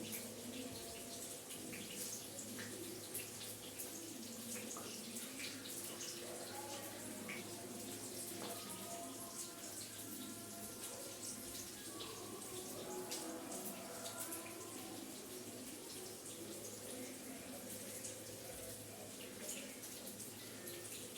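Kitchen tap running while hands are washed, a quiet continuous splashing water stream with faint irregular drips and clatter throughout.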